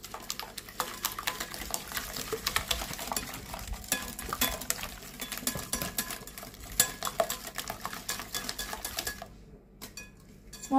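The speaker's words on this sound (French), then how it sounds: "On touille un peu et on mélange." Eggs are stirred and mixed for a chocolate cake batter, with a utensil scraping and clinking rapidly against a bowl in continuous close, busy strokes for about nine seconds, then a brief near-silence at the end.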